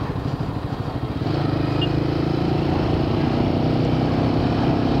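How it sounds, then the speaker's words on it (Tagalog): A motorcycle rides in the Himalayas with a steady, loud engine drone and a rhythmic low throb, its pitch rising slightly as it revs up early on and then holding constant. "Dumadaan pa lang yung motor, gumigilid na."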